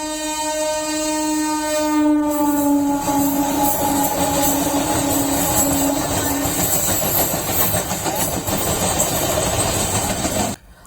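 A train in Madhya Pradesh, India sounds a long, loud horn blast for the first couple of seconds, then rumbles and clatters steadily past nearby for the rest, with wheels and cars rattling until it cuts off.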